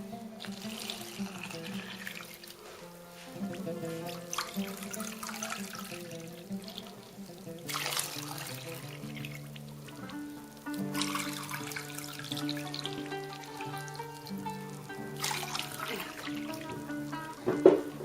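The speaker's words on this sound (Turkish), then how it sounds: "Aynı kaseyle 3 su bardağı soğuk suyu ölçüyoruz." Cold water runs and splashes into a bowl while preparing helva, a continuous close gurgling pour with a few louder surges and drips, no voices.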